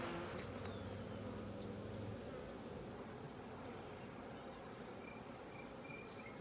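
Honey bees buzzing steadily inside an opened beehive during an inspection, a dense continuous drone with a few individual bees whining past nearby, no talking.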